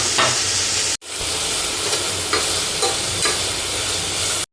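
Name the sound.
onions frying in a pan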